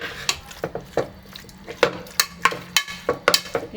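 Beef pieces being stirred and mixed with spices in a cooking pot for beef chukka, giving a series of irregular scraping and clinking strokes, close and moderately loud, with no talk.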